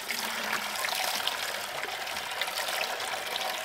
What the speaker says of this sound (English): just going to have the water from this poly pipe empty in here like this